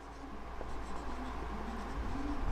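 Pen writing on paper at close range, faint continuous scratching strokes while a physics problem is worked out.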